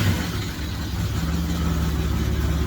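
A Volvo wagon engine, being revived for racing, idles steadily and close, a low even rumble with no talk over it.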